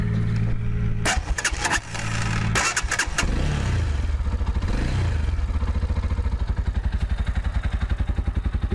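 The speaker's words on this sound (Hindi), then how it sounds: "अगर हम ज़रा इसका एग्जॉस्ट नोट सुन लें कि how does this thing sounds actually" A Tekken 250 motorcycle with twin mufflers clatters and fires up, then settles into a steady exhaust idle at around 1000 RPM, its rapid, even thumping pulses close and continuous.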